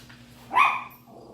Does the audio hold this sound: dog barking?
yes